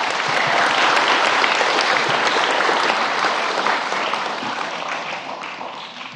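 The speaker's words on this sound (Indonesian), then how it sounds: "Tepuk tangan." A crowd applauds at Pope Francis's meeting with a special-needs group at the Indonesian bishops' conference office, marking an 87th birthday; the loud, thick clapping gradually tapers toward the end.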